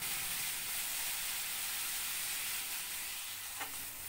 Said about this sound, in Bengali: এই কাঁচা লঙ্কা দুটো কুমড়োর সঙ্গে ভালো করে ভাজা ভাজা হবে